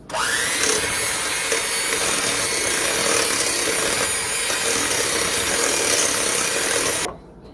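Electric hand mixer beating sugar cookie dough made with vanilla extract, a steady loud whirring drone that runs continuously for about seven seconds and then cuts off abruptly.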